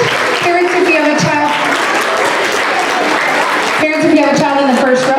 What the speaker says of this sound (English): Let's give these boys and girls a big round of applause as they make their way to the stage.